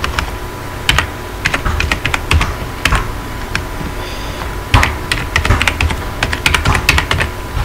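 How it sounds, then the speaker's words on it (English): Password being typed on a computer keyboard while logging in to a D-Link DIR-600L router's admin page: a steady run of close, crisp key clicks in uneven bursts, with a brief pause midway and no talking. "type in password in the password bar"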